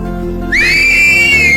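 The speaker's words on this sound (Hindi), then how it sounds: "अब बची ना सीटी।" Someone whistles with fingers in the mouth, giving one loud, shrill, sustained tone that rises and then holds steady for about a second over a steady background hum.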